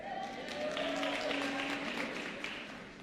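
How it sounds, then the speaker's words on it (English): An audience at a national dialogue event applauds, with a steady wash of many hands clapping at moderate distance that swells and holds, while a speaker's voice carries faintly over it. "I knew you would applaud that."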